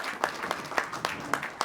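An audience at a Hunarmand Punjab Program event claps to welcome acting Punjab Governor Malik Ahmad Khan to the stage, with a light scattering of distinct, evenly spaced claps that are fairly close and moderately loud.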